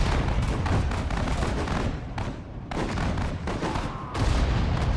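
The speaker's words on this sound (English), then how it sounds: "Artillery's still doing a decent job by the looks of things." Heavy artillery fire from a World War II strategy game set at the Battle of Moscow: dense, continuous booming blasts and explosions rolling over each other, loud and close, with no pauses in the barrage.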